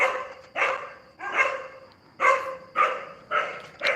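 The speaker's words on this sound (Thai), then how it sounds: "หมาเห่าแล้ว" A dog barks repeatedly in short bursts, about six loud, close barks with brief gaps, outdoors at a Buddhist temple pavilion in Surin, Thailand, with no talking.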